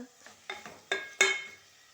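Chicken stirred in hot oil in a pan, a few distinct spoon scrapes and clacks at a steady rhythm over a faint sizzle, close and fairly quiet with no talking.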